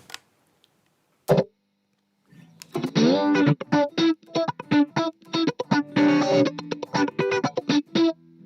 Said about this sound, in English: Obviously, the classic phaser.